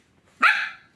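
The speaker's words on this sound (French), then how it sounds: "je dis à Oreo d'arrêter d'aboyer" Oreo, a small dog with a high-pitched bark, gives a single sharp, loud yap indoors in an apartment, standing out against near silence.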